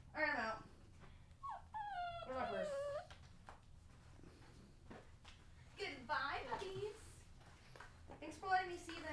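A dog whimpers and whines in a series of high, wavering cries spread across the moment, fairly close, with a person speaking in between.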